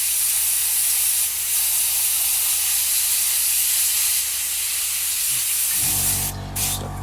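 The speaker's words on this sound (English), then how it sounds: "So the compressor come up to power." Air compressor running while spray painting, a loud continuous hiss of air that holds steady, then shifts into a low humming drone near the end.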